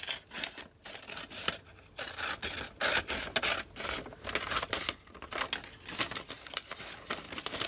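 Scissors cut paper for a journal, producing quiet, rapid snips and crisp rustles in an irregular rhythm. The paper is shifted and handled close by between cuts.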